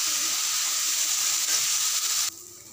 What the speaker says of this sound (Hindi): बाकी सब्जी को भी इसमें ऐड करके हल्का भून लेती हूँ